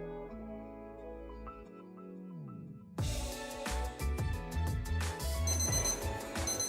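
A melodic chiming alarm tune plays softly, then bursts into a louder, busier electronic ringing melody that repeats insistently.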